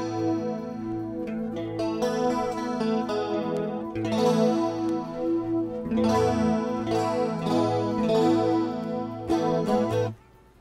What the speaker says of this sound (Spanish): El segundo chorus es un chorus de un plugin que se llama External Logic, que se llama Magic